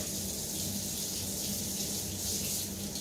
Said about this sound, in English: So I'm just going to rinse this one off real quick.